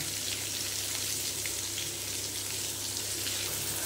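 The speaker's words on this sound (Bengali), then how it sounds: "এই যে পটলগুলোকে হালকা করে ফ্রাই করে নেবে" Spice-stuffed pointed gourds (potol) fry lightly in oil in a pan, giving a soft, even hiss that holds steady for a few seconds with no talking.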